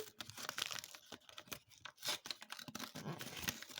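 A sticker packet being torn open by hand, close rustling rips and crinkling plastic in short irregular bursts.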